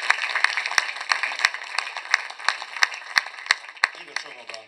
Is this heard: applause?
yes